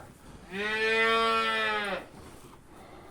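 A single long, loud cow moo, steady and close, lasting about a second and a half, with quiet surroundings before and after.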